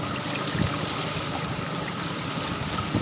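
Floodwater from a typhoon surging over a flooded road and rice field in Leyte, a dense continuous rushing wash of water heard up close without pause.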